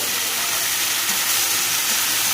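Green chillies, whole dried chillies and spices frying together in a pan in a vegetarian dish, giving a loud, continuous bright hiss that stays steady from start to finish, close up with no voices.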